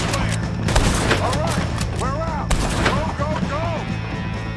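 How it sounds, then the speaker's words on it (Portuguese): Several sharp gunshots ring out in quick succession over a constant background hum, with descending whistling tones between the bursts of gunfire in Red Dead Redemption 2. "Esse último tiro foi bem patético."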